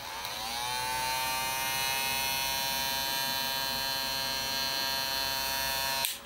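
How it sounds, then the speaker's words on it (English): Wahl Vapor hair clipper running steadily at close range, a smooth, even high-pitched motor whine with a faint hum beneath, continuous for about six seconds before cutting off abruptly at the end. "Very quiet clipper."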